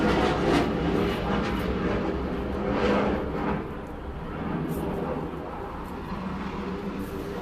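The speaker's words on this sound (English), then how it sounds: "Have to take a little pause for the airplanes." Airplanes flying low overhead near an ocean-front beach make a continuous broad roar. It is loudest at first, then eases to a steadier, slightly softer rumble that lasts throughout.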